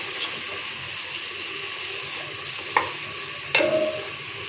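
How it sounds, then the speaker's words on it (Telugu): Mutton and broad bean curry being stirred in a pan, a soft steady sizzle running throughout with two sharper scraping knocks of the spoon near the end, close and fairly quiet, no talking. "కొంచెం బాగా కలుపుకోవాలి"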